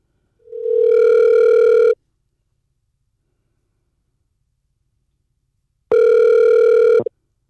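A telephone ringback tone sounds twice as an outgoing call rings through, each burn a steady electronic tone lasting about one and a half seconds, separated by a long silent gap, clear and close with no talking.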